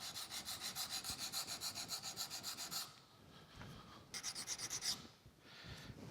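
Steel wood chisel rubbed back and forth on a sharpening stone, a steady rhythmic rasping stroke repeated quickly for a few seconds, pausing, then resuming in a short second burst, close and alone.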